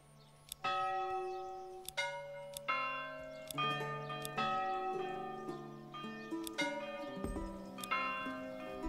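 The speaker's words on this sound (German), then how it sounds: "Kirchenglocke." Church bells in the medieval city-building game Manor Lords ring out in a steady series of clear, resonant strikes, each tone overlapping the decaying hum of the last, heard alone without talk.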